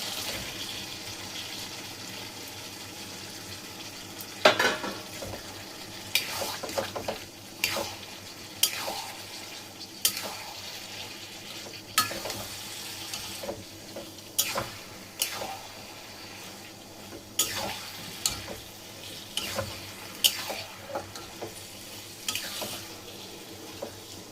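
Snake gourd and fried potato pieces stirred into a frying spice paste, with a low background sizzle and a series of sharp scraping clacks from a spatula against the pan, spaced irregularly.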